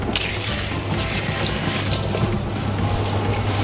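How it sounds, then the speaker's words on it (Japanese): Tap water runs steadily and loudly over mizuna greens being washed at a kitchen sink, a continuous close splashing hiss with no talking. "続いて水菜を洗います。"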